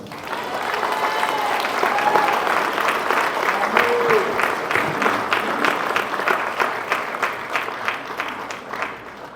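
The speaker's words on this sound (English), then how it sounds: "a round of applause for the class of 2023" Sustained applause from a large audience at a high school graduation ceremony, a dense, steady patter of many hands clapping that carries on throughout, with faint voices mixed in.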